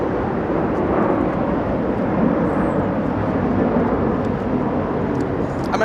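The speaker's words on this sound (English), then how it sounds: "American Airlines, the departure flying to Puerto Vallarta, American 2408." An American Airlines jet departs Los Angeles International Airport on a flight to Puerto Vallarta, its engines making a loud, steady, broad roar that stays strong throughout.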